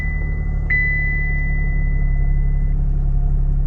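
A 2024 Chevrolet Trax idles after a cold start, a steady low rumble with a constant high-pitched whine that briefly spikes early on, close and alone.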